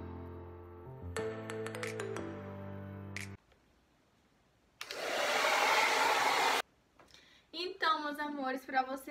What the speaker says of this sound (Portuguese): eu só sequei com um secador